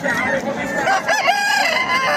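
A fighting rooster crows loudly over background chatter at a rooster fighting fair, with other fowl clucking nearby in a noisy crowd.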